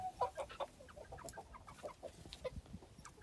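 Chickens cluck in short, repeated bursts close by, with more birds murmuring in the background and no one talking.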